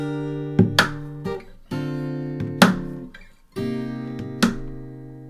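Guitar chords from a song lesson ring out one after another, several distinct strums and plucked accents in a slow rhythm, close and clear with no talking.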